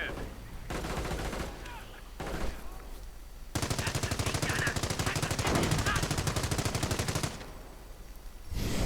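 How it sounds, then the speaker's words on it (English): Rapid .30 caliber machine gun fire in the Company of Heroes WWII strategy game, a long, loud, dense burst of shots after quieter battle noise and a few earlier bursts. "the 30 caliber once more stops the Panzer Grenadiers"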